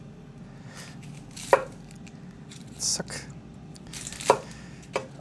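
A knife chops an onion on a cutting board in several sharp, separate strokes spaced irregularly, close and clear over a low room hum, with a brief spoken word.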